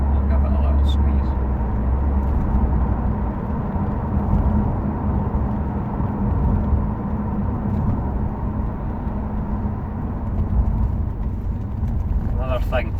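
A Saab 9-5 2.3T Aero accelerates onto a motorway, its turbocharged engine and road noise forming a steady, loud roar throughout, with someone talking over it.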